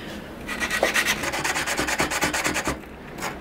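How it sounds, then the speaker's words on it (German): A hand file rasps back and forth on a wooden part for a homemade plant stand, about a dozen quick, rhythmic close strokes, then a pause and one last stroke. "Also ein bisschen werde ich noch feilen, dass es noch ein bisschen weiter reinrutscht."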